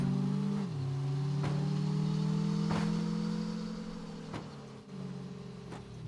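A car in the video game State of Decay runs with a steady engine drone, braking as its pitch drops, then hits a wall with several sharp thuds and knocks, up close and with no talk.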